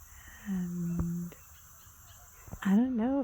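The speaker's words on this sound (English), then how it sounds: "There's geese." Outdoors in nature, geese give honking calls. A long sustained honk comes first, then a rising, wavering series of calls nearer the end, all at moderate distance.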